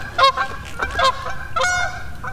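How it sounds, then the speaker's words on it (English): Several geese honk loudly and close by on the water near a fishing kayak, with repeated overlapping calls in quick succession. "freaking geese everywhere"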